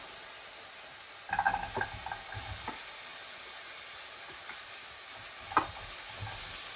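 Sliced onion fries in a pan in a home kitchen: a steady, fairly quiet sizzle runs throughout, with a brief clatter of stirring near the start and a single knock later on.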